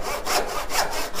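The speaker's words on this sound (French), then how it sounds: "Pour travailler ici de manière droite, nous utilisons une scie à onglets." A reinforced miter saw cutting through wooden beams by hand, with three rhythmic back-and-forth rasping strokes close up, about half a second apart and alone without voices.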